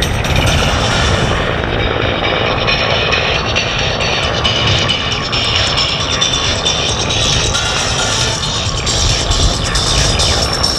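Georgia State Patrol aviation aircraft flying a demonstration at the Vidalia Onion Festival air show, with a loud, continuous engine and rotor roar that stays close and steady for the whole stretch.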